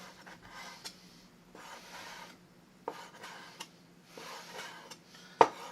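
A knife chops bacon on a cutting board for home-cooked stuffed burgers, with soft rubbing and scraping strokes broken by occasional sharp taps and one louder knock, close and fairly quiet, with no talking.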